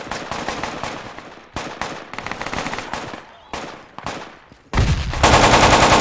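Sustained bursts of automatic gunfire in the military shooter game Project Reality, loud and close, come in several volleys separated by brief pauses, ending in a denser, heavier stretch of fire with no voices over it.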